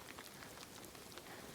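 Quiet rain pattering on surfaces around hikers on a trail, a soft, steady hiss of drops close to the microphone with no talking.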